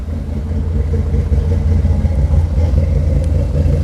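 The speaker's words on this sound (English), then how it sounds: "I love how this car sounds" Chevrolet car engine, a Corvette or Camaro, idling with a deep steady rumble and slight revving pulses, close and loud with no talking.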